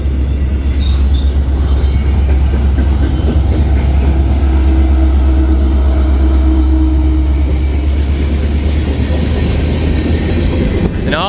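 A heavy CPKC freight train with all-EMD locomotives and a BNSF SD70ACE mid-train unit rumbles steadily past up close, a deep continuous roar of wheels and cars with a faint squeal near the end.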